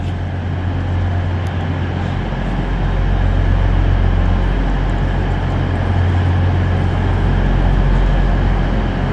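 A steady low rumble of a train running alongside a British station platform, loud and continuous with a broad mechanical roar and no voices.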